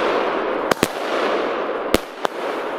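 Red Thunder firework cake firing outdoors: four sharp, loud bangs in two spaced pairs, the first pair and last pair each about a third of a second apart, over steady background noise.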